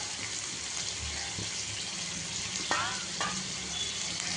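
Onion, tomato, green chilli, coriander and curry leaves hiss and sizzle in hot oil, a steady close frying crackle with brief stirring scrapes.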